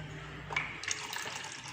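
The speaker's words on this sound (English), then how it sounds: "I am going to pour the water inside the model I have done." Water poured into a homemade model of the human digestive system, a soft continuous trickle and splash with a few brighter splashes near the start, fairly close and alone.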